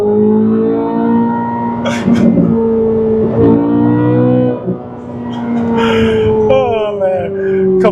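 A 2024 Chevrolet Corvette C8 Z06 revs hard under acceleration, its engine note climbing and dropping through a couple of quick downshifts with sharp blips, while occupants exclaim over the roar.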